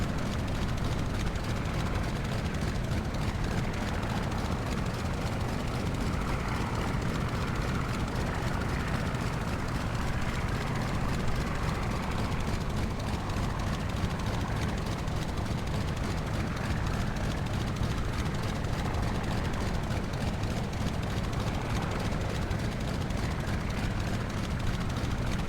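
A Pasped Skylark light aircraft engine drones steadily in flight, a loud, even roar that holds unbroken for the whole stretch with no voices.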